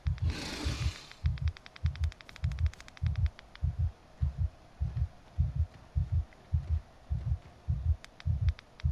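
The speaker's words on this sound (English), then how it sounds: "Is that her heartbeat or her lungs?" A heavy heartbeat pounds steadily inside the horror game A Quiet Place: The Road Ahead, a low doubled thump repeating about twice a second, close and muffled, opening with a brief burst of breathy noise.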